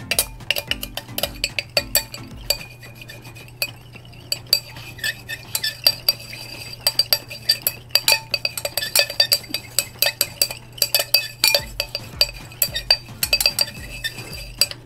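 Essential oil and Polysorbate 20 stirred together in a container, a utensil clinking and scraping against the sides in quick irregular taps, close and fairly crisp over a steady low hum.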